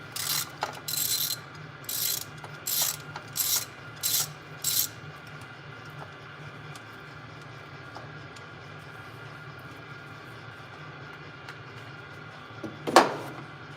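A ratchet works loose 10mm valve cover bolts on an older Chevy, quick rapid clicking bursts in a steady rhythm at first, then a quiet stretch and a single sharp clank near the end.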